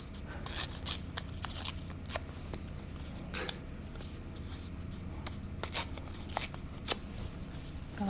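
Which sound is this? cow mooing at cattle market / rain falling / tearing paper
tearing paper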